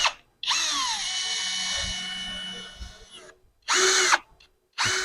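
A power drill drives a screw into a wall to mount a plant holder, giving one long whining run of nearly three seconds, then two shorter bursts after brief pauses, close and loud with no talking.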